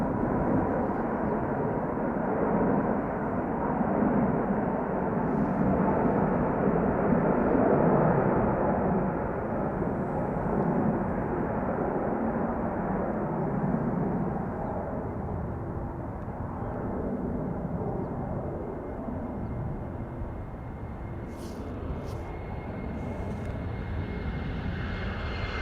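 Singapore Airlines Airbus A350-900 airliner at Schiphol Airport, its jet engines a sustained loud rushing roar that swells in the first half and then slowly fades as it moves away, with no talk over it.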